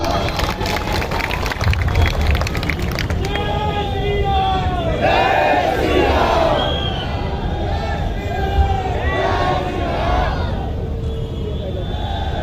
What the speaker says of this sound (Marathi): एकदा जोरदार टाळ्या होऊन जाऊ द्या